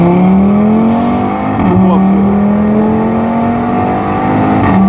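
Audi RS3 fitted with an ABT stage 1 tune accelerating hard, a loud, steady engine drone rising in pitch with a brief drop at a gear change before climbing again, heard close from inside the car.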